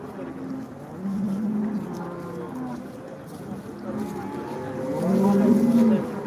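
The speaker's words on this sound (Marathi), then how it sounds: "मोठी गाय मोठ्या मापाची गाय" Large cows moo at a busy cattle market, several drawn-out low calls rising and falling over about six seconds, the loudest near the end, amid crowd murmur and nearby talk.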